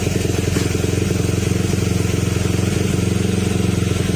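A Honda Click 125/150 scooter engine idles close by with oil dripped onto its muffler elbow, a loud, even, rapid putter holding steady throughout.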